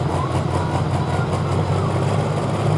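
A Pro Stock John Deere pulling tractor at a truck and tractor pull, with a roughly 680-cubic-inch turbocharged engine of about 3,000 horsepower, idles with a loud, steady, throbbing low rumble.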